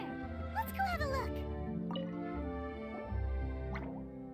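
Water droplets drip in Genshin Impact in a Dendro region setting, a few soft plinks spread over steady game music, with a voice playfully imitating gulping drip noises.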